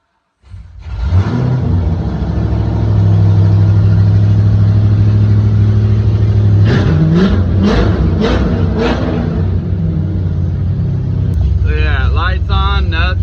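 A 1995 Ford Mustang 5.0 V8 cranks and fires, settles into a loud, close, rumbling idle, then gives several quick throttle blips and a final rapid burst of revs.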